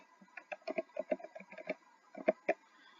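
Typing on a computer keyboard while entering an answer in all caps for a Scratch riddle project: quick bursts of clacking keystrokes in an irregular rhythm, close and moderately loud, with no talk.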